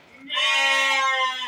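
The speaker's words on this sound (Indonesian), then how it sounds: "kambing jumbo ini ya." A large jumbo male goat of the Jawa Randu breed, leaning toward PE (Peranakan Etawa), lets out one long, loud, wavering bleat close by that holds for about a second before trailing off.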